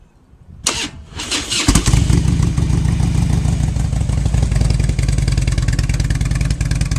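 A motorcycle engine cranks and fires up at about two seconds, then settles into a steady, loud, close idle with an even low thrum, one of two bikes each with around 40,000 miles.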